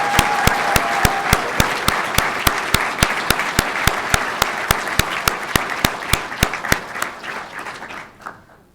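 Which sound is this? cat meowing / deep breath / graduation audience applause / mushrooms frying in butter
graduation audience applause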